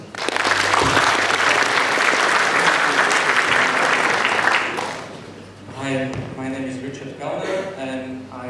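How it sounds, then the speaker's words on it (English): An audience at a PyCon PL 2016 lightning talk session breaks into loud, sustained applause for several seconds, which fades as a speaker starts talking. "So give him a warm applause."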